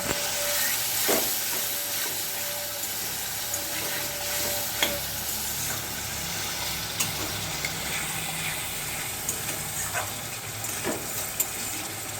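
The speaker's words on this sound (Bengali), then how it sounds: "আলু আর মশলাটা ভালো করে কষিয়ে নিয়েছি" Potatoes and spice paste stir-fried in a pan for raw-banana kofta, a continuous sizzle with repeated scraping stirs and occasional clinks of the utensil, close up and without speech.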